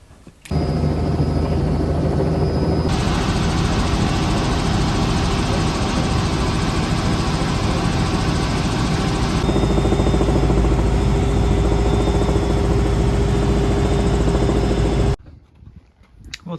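A helicopter engine running at a refuelling stop in cold Western Australia, heard from the back seat: a loud, constant droning whine with a deep rumble that holds steady for about fifteen seconds, then cuts out.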